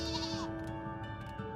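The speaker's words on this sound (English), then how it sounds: "Look at the cute little sheep." A sheep in Final Fantasy XIV gives a short wavering bleat, clear and close, followed by a few softer game-sound tones and faint background music.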